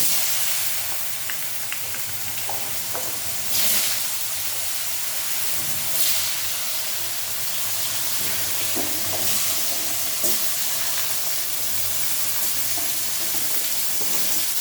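Fish-oil frying in a pan, a steady broadband sizzle and hiss running throughout with a few brief clinks and stirring scrapes, close and continuous with no voices over it.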